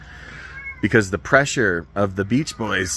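A house cat meowing close by, with a faint mew early on and then loud drawn-out meows and yowls in an irregular string, while a person speaks at the same time.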